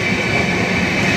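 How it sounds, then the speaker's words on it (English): A Rajdhani Express train running between Durgapur and Sealdah, a steady loud rumble of wheels and carriage noise heard close up from inside the coach, continuous and without speech. "the train had started from Durgapur, and the next station is Sialda"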